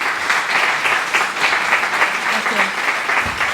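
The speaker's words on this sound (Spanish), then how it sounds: "le damos un aplauso" Dense, sustained applause from an audience at a talk on Alzheimer's, Parkinson's and other neurodegenerative diseases, a continuous even roar of many hands with a voice faintly underneath.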